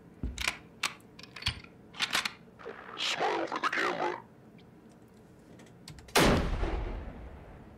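Gunfire in a video game, where a few sharp shots stand out at first and later a loud, longer burst fades out. The shots are spread across the scene with quieter game noise between them.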